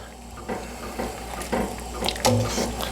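Rice noodles are stirred in water, giving soft sloshing and splashing with a few brief louder swishes over a quiet background.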